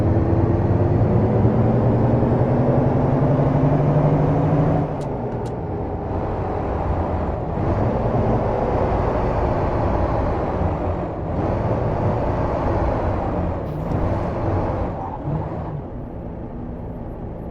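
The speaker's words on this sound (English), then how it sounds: "And that was the engine brake." Engine braking on a Mack truck in a driving game: a loud droning engine note falls away abruptly, then gives way to a rougher, chopping rumble with a few sharp hissy bursts, and no voices.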